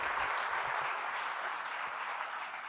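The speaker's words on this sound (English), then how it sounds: "round of applause, yay" Dense applause from a conference keynote audience, a steady wash of many hands clapping that holds loud throughout and tapers only slightly toward the end, with no voices over it.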